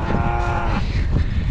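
A cow on a cattle ranch lets out one long, loud, close moo lasting under a second, over a noisy outdoor background with no talk.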